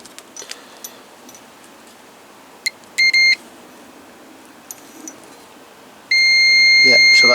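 A multimeter in diode test mode beeps while checking wiring on a Reliant trike, giving short sharp beeps followed by a sustained continuous tone near the end, close and clear over a quiet workshop background.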